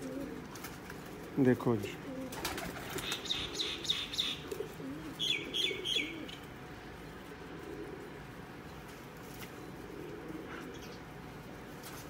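Pigeons in a Punjabi fancy-pigeon seller's loft coo and chirp in short bursts over a quiet outdoor background, with someone speaking briefly near the start.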